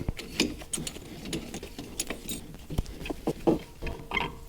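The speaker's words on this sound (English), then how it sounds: "Should be able to get on here and compress this with our C-clamp." A C-clamp screw is slowly turned to press a brake caliper piston back on a Toyota RAV4, giving irregular creaking, ratchet-like metallic clicks and scrapes at close range, with no talk.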